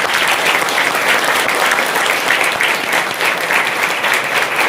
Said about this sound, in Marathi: या चौघांसाठी जोरात टाळ्या वाजवा